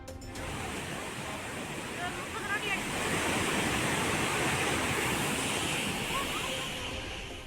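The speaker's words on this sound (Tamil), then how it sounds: "கல்வராயன் மலை அருவியில் கடும் வெள்ளப்பெருக்கு" Floodwater roars down a waterfall in the Kalvarayan hills, a constant loud, broad rushing wash heard up close, with faint voices in the background.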